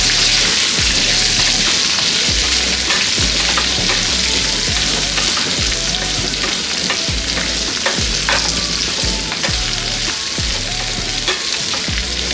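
Sliced onions fry in a pan in a loud, steady, close sizzle, with repeated scraping stirs cutting through the crackle throughout and no talking.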